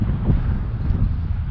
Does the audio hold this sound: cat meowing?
no